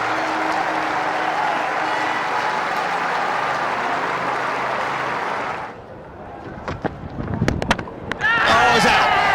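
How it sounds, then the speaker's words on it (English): Cricket crowd at a New Zealand versus England Test match in Auckland applauds a departing batsman with loud, sustained clapping, then it fades into a brief lull before scattered claps, thuds and renewed crowd noise. "The majority of the crowd give him a good reception"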